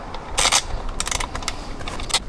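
A socket wrench ratchets a bolt out of a Tesla Model 3/Y screen swivel mount, close-up bursts of quick metallic clicks in short irregular runs.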